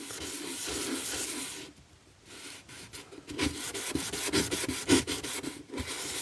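A seal stone is rubbed back and forth on sandpaper in steady, gritty strokes, close up, with a brief pause partway before the rasping resumes, no talking.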